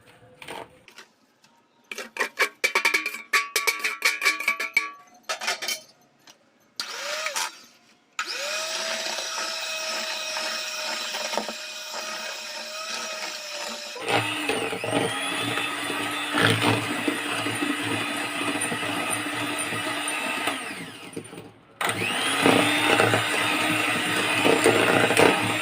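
An electric blender whirring continuously as it mixes eggs and powdered sugar into cake batter, starting after some clattering, then a loud steady drone with a short pause and change in pitch.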